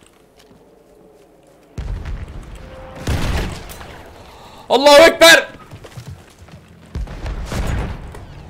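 Battlefield 1 battle sounds: several loud bursts of gunfire and explosions, heard as separate sharp blasts and rumbles, with a player talking between them.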